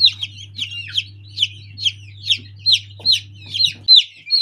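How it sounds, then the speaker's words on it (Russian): Newly hatched chicks on the 21st day of incubation in a plastic mechanical incubator, peeping loudly in a steady run of shrill, repeated chirps close by, with a low constant hum underneath that stops near the end. "Как мы умеем громко пищать"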